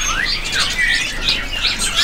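Cucak jungko birds at a bird market give repeated bright, rising and falling whistled calls, several phrases in quick succession, fairly close and clear over a low background hum.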